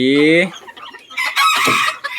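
Loud, close bantam chicken calls: a short tuneful squawk, a brief pause, then a harsher, longer burst of squawking and clucking.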